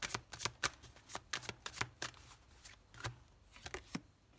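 Tarot cards are shuffled and slapped down on a table during an astrology reading, a string of crisp, close flicks and snaps in uneven clusters with brief pauses between them.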